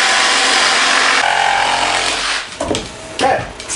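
A saw cuts through wood along a marked line, beginning as a loud continuous rasp, then breaking into several separate back-and-forth strokes near the end.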